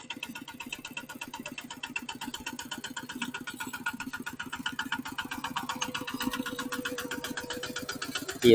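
Motorbike engine idling close by in a forest setting, a steady rhythmic putter with even firing pulses that continue without change, ending in a sudden louder burst.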